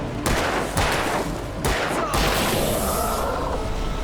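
Dense gunfire from the Alan Wake video game, a loud barrage of overlapping shots in rapid volleys with a few heavier bursts, sustained across the whole stretch.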